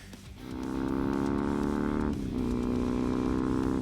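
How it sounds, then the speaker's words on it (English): A BMW R1100 GS, a 1990s boxer-twin adventure motorcycle, runs steadily at close range, its engine drone dipping briefly before it settles into a sustained rumble with no voices. "Number 5. The BMW R1100 GS."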